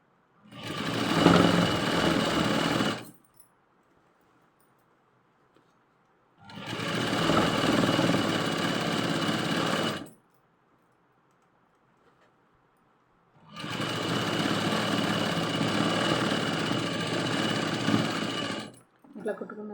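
A sewing machine stitches a bedsheet joint in three loud, close bursts of rapid running, separated by quiet pauses, with no voices over the machine.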